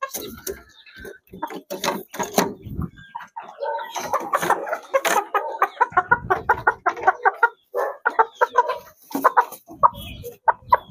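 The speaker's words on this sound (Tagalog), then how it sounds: "So next, ito naman mga kamanok." Chickens on a farm, newly acquired birds, cluck and call in repeated short bursts close by, with people talking intermittently over them.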